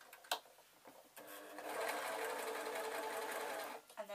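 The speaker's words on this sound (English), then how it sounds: "I'm just going to hem this bit of the hat" A sewing machine hems the edge of a fabric hat, its motor giving one steady, close whir that runs for a couple of seconds after a few clicks and knocks.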